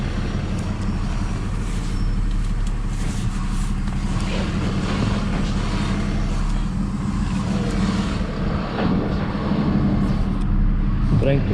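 An HGV class 2 delivery lorry reverses slowly in a steady low diesel rumble with occasional brake hiss and clatter, continuous and close throughout.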